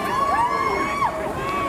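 A street crowd of protesters cheers and yells together, sustained shouts and whoops rising and falling at moderate distance, filling the whole moment without pause.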